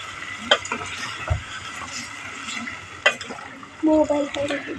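Spices sizzle in a pan of chicken and onion over a wood-fired stove, with a few sharp scrapes of a spoon, and a short burst of speech near the end.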